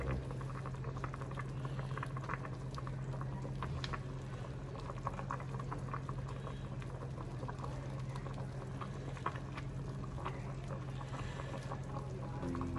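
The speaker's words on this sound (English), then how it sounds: "let the remaining simmer" Oxtail pasta simmering in liquid in a pot bubbles steadily throughout, with a continuous close bubbling hiss and scattered small pops over a low hum.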